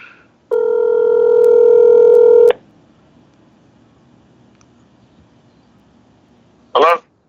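Telephone keypad dialing tones: a steady two-second electronic tone sounds close and loud, then near silence, and a short burst of a phone tone or chirp arrives near the end.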